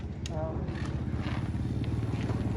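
Yamaha R3 motorcycle riding off, a steady, fairly loud engine rumble throughout, with voices talking over it.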